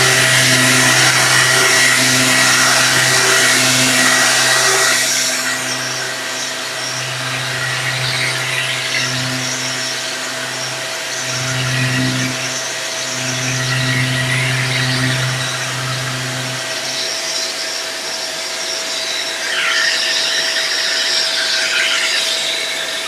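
Electric power sander working wood with fine 1000-grit sanding discs on a bedside cabinet, a steady whirring hum that rises and dips as pressure changes, running close up with no talk.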